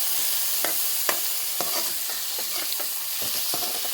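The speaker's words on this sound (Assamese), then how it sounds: "আলু আদা সিজাকৈ ভাজি লোৱাৰ পিছতে এতিয়া দিছো বিলাহী" Chopped tomatoes fry with potatoes and ginger in a pan, a loud continuous sizzle and hiss with frequent quick scrapes and taps of stirring, close up and without speech.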